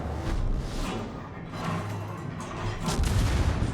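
Warship guns in World of Warships firing AP shells at a Minotaur cruiser, a run of heavy booming shots and rumbling impacts across a few seconds, with no voices.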